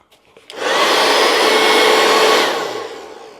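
A loud electric leaf blower motor spins up sharply, holds a steady roaring whine for about two seconds, then cuts off and winds down. It sounds close, with no talking.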